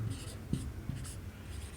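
Chalk or marker strokes on a classroom board during a math lesson, a few short scratchy taps and scrapes spaced unevenly, fairly faint with low room noise.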